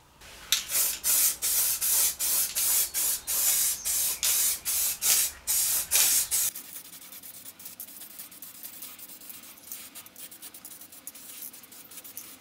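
Rapid bursts of aerosol spray paint hit lawn tractor mower blades, a quick series of loud hissing puffs over about six seconds, then the spraying stops and only faint background noise and small handling sounds remain.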